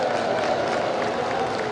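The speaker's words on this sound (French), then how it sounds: "Je vous demande de les applaudir." Audience at a political party anniversary gathering in Gabon applauding, a brief dense burst of crowd clapping and murmuring, steady and fairly loud.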